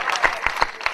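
An audience in a small pavilion at a Hindi poetry recital gives a brief, close burst of clapping, with individual claps standing out in an uneven rhythm for about a second.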